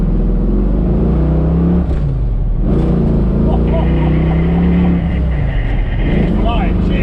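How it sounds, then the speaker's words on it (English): A 1968 Ford Mustang coupe with a 351 stroked to 410 V8 and five-speed manual accelerates, its engine droning loud and low throughout while someone talks over it. "I just love it, that roar of that V8"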